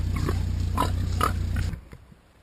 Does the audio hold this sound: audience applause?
no